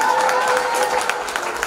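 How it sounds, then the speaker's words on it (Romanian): Audience applauding at the end of a children's choir concert, dense sustained clapping from a crowd filling the space, with a voice talking underneath. "Vă rog frumos să-i aplaudați încă o dată"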